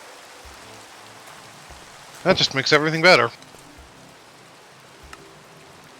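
Rain falling in a survival crafting video game, a constant soft patter and hiss on surfaces with a few faint thuds, as someone talks briefly over it midway.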